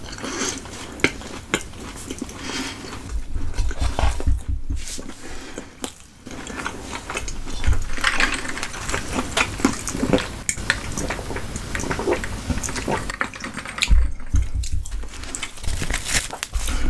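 Someone takes a bite of butter chicken with butter naan, with close, continuous chewing, soft tearing and wet mouth sounds, plus occasional faint clinks of cutlery.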